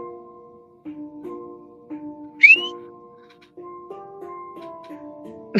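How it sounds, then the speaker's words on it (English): A person whistling a slow tune of sustained, clear pure tones stepping between notes, close and fairly soft, with a brief high squeak partway through. "I bet if I whistle, he can hear it like we were doing the other night"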